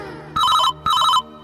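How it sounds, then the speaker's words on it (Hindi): A phone ringtone in a Chhattisgarhi cartoon sounds in two loud, close electronic bursts separated by a short pause. "ए दे भाटो के फोन आते हैं"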